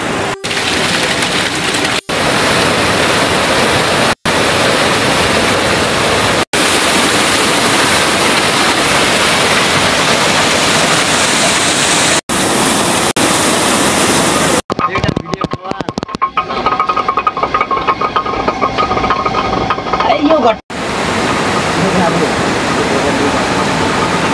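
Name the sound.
water flowing through a water mill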